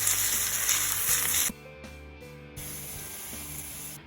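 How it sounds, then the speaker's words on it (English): Onions sizzle loudly in a frying pan, a steady bright hiss that cuts off briefly and then resumes at about the same level, with faint clinks and low kitchen hum underneath. "Nicely fry the onions."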